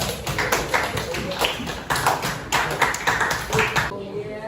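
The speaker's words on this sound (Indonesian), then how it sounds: "tepuk tangan untuk kelompok 3 ya" Classroom of students applauding a presenting group during a religious education teaching session, a dense burst of sharp, rhythmic clapping with a few stronger beats, ending suddenly, with voices mixed in.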